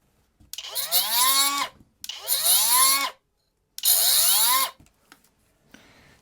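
An angle grinder cutting into scrap metal, three separate bursts, each spinning up with a rising whine, holding loud and close for about a second, then cutting off, with a faint scrape at the end.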